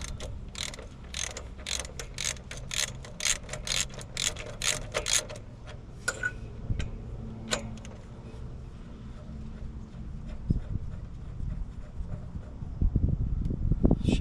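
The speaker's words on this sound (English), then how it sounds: "now we're going to pull these plugs out." Spark plugs are worked loose from a small tree trimmer engine during a teardown. Rapid ratcheting clicks in quick bursts come first, followed by scattered metallic knocks and handling clunks up close.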